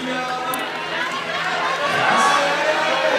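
A dense crowd cheers on a hometown climber during the lead semi-finals of a World Cup climbing competition in Villars, a sustained roar of shouts and chatter that swells slightly toward the end.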